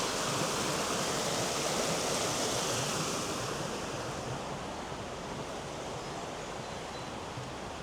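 River water rushes steadily through a sluice gate in the Rivelin Valley, a close, constant broadband roar that eases slightly partway through, with no talking.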